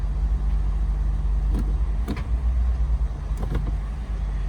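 A car creeps slowly along at a dealer-only auto auction after a rough gear engagement, its low engine hum steady and close, with a few brief clunks and rattles.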